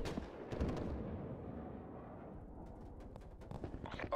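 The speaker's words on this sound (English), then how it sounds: "Incoming artillery." Artillery fire in Call of Duty: Black Ops Cold War, Combined Arms Moshpit mode: heavy booming blasts and rumbling impacts, fairly faint, with a sharper crack at the start and a few scattered reports later.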